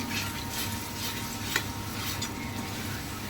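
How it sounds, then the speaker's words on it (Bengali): Spice masala being stirred and fried in a pan while salt is added, with a steady low sizzle, light scraping and occasional clinks of a utensil against the pan, fairly faint and with no talking. "এখন তো মশলাটা আমি খুব ভালো করে কষিয়ে নিব"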